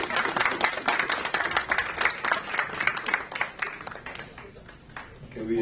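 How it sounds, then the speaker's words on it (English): Round of applause at an energy agreement signing ceremony, with a crowd clapping steadily and densely, strong at first and gradually thinning toward the end. "Let's have a round of applause, please."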